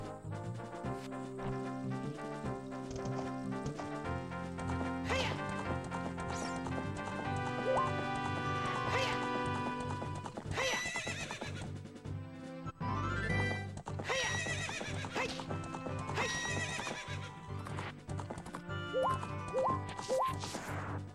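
Epona the horse in Ocarina of Time neighs and gallops, whinnies and clip-clopping hooves over busy game music and effects, with sharp thwacks and crashes scattered throughout.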